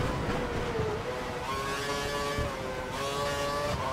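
F1 car engine in the F1 2012 racing game at the Italian Grand Prix, a steady loud whining drone that climbs in pitch through gear changes as the car accelerates, continuous and up close.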